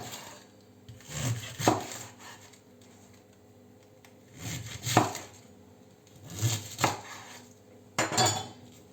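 A knife chops ingredients on a board in a home kitchen, a few separate bursts of close, fairly loud cutting strokes with quiet pauses between, no talking.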